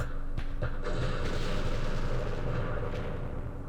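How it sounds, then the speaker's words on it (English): Heavy mortar barrages in the strategy war game Campaign Series Middle East, a steady rumble of dense, overlapping booms and thuds with a few sharper impacts, loud and continuous with no voices. "These are heavy mortars. Let's utilize them."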